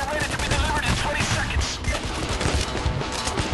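Continuous dense gunfire from snipers and weapons in Payday: The Heist during a rooftop getaway, a busy, crackling barrage with voices faintly mixed in.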